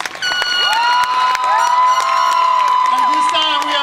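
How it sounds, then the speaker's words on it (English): Cheering and whooping from a large graduation ceremony crowd at a high school commencement, loud and continuous with scattered shouts and applause underneath, sustained for several seconds. "let's give those loud, nice and round of applause"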